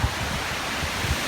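Steady broadband wind roars outdoors in Swindon, England, a continuous blustery rush filling the clip with low gusty buffeting and no voices.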